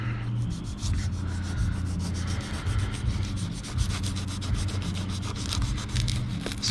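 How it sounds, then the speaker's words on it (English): A fillet knife slicing through pontoon boat seat vinyl, making a steady close scraping and rubbing sound with rapid fine rasping strokes that continue without a pause. "This fillet knife is working pretty well"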